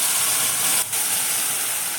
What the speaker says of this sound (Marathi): आता घोटून घेतलेली भाजी तेलामध्ये टाकून घ्यायची आहे